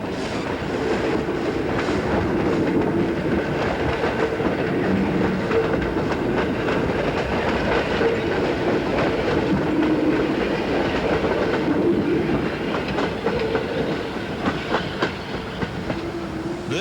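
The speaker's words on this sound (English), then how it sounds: "The special steams past Eshelman's Crossing." A steam locomotive special rumbles steadily past at close range at Eshelman's Crossing with rhythmic wheel clatter over the rails, loud and continuous throughout.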